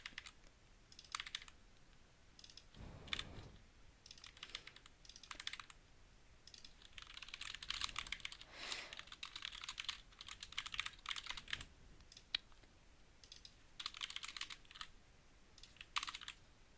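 Computer keyboard keys being pressed, with quick bursts of clicky taps and repeated backspace strokes, close and fairly quiet, alone without talk.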